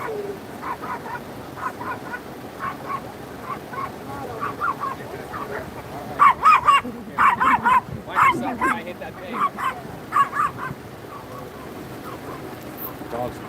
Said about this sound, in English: There's a dog in there.